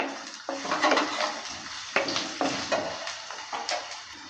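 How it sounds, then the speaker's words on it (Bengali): Potatoes stirred in hot mustard oil in a pan: repeated scraping, clattering strokes of a spatula over a steady, close sizzle, with no talking. "আলুটা দেওয়ার পর নেড়ে চেড়ে দিচ্ছি"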